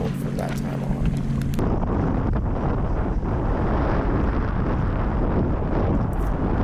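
Strong wind roars and buffets the microphone continuously while boating on Lake LBJ, in cold, gusty conditions. A brief tonal sound is heard at the start.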